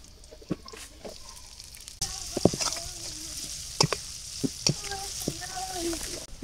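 Chopped onion frying and being stirred in a pan while cooking a Bengali pumpkin and hilsa fish curry, a steady close sizzle with scraping stir strokes that get louder partway through.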